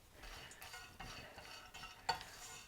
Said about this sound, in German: Die gehackten Nüsse werde ich jetzt hier erstmal so ein bisschen anrösten